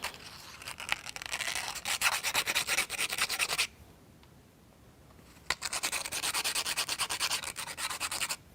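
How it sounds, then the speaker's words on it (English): Small model engine washers fitted on toothpicks are sanded around their edges, a close, rapid rhythmic scraping in two bursts separated by a brief quiet pause. "they can be easily sanded around their circumference."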